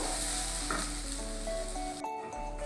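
Onions sizzle and fry steadily in an oil-filled pan, a continuous close hiss with occasional stirring scrapes and a brief dip in the sizzle near the end; no one speaks.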